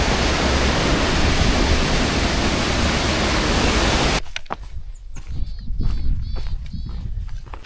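Mountain stream rushing along the Kungsleden hiking trail in Sweden, a loud, dense, steady wash of water that cuts off abruptly partway through, leaving quieter outdoor ambience with scattered knocks and faint bird calls.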